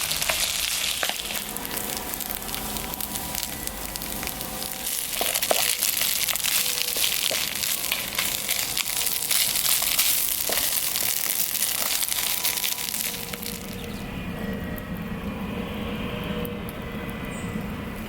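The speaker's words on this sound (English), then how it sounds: "fried that up for about 10 minutes, 15 minutes" Potatoes with ham and onions frying in a pan over a small camp burner outdoors, a steady broad sizzle with scattered crackles and stirring scrapes, close and continuous, easing slightly near the end.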